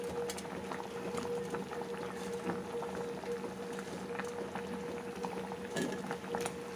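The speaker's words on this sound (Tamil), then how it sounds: "நல்லா சூடாக பாருங்க, நல்லா கொதிச்சிட்ருக்கு" A clay pot of curry boils steadily over a village wood-fired stove, with a continuous close bubbling and simmering texture and no talk.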